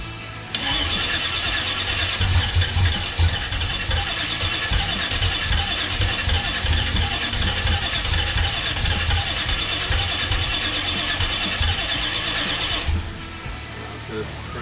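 A Holden VC Commodore engine cranks hard and loud in one long continuous run of about twelve seconds, then stops abruptly, leaving quiet background noise.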